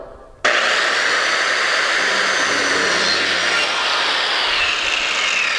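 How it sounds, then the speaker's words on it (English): A dual-blade saw with counter-rotating blades cuts through wood molding, starting abruptly with a loud, steady high-pitched whine and grinding roar that holds for several seconds, close by and with no talking. "I was able to enter both the wood and the PVC without any kick on the saw because the dual rotational blades, one is spinning one way, the other is spinning the other way"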